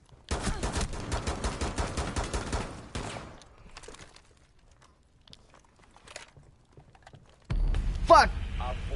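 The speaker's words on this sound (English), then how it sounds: "That was a friggin' shotgun" Rapid bursts of shotgun and gunfire from a video game, a dense volley over the first few seconds, then sparse scattered shots, and another loud burst near the end.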